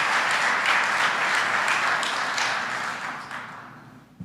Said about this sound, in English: Can we have a round of applause for our first responders?